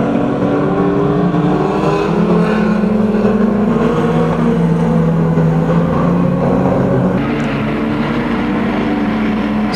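Pre-1985 banger racing cars lap an oval track at Kings Lynn, their engines roaring loud and continuous as revs rise and fall across several passing cars, with no talk over them.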